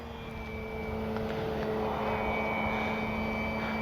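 An FMS 1400mm Pitts V2 radio-controlled biplane flies on a windy day, its electric motor giving a steady droning whine with tonal hum throughout, under heavy wind noise.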